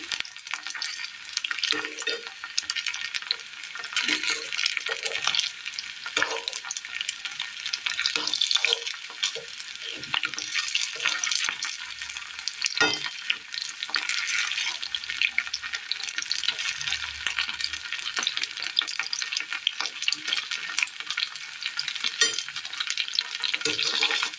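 Chicken pieces fry in a hot pan for a Kerala dish with a steady, bright, close sizzle and hiss, broken by scraping and clattering as the pieces are stirred and turned over.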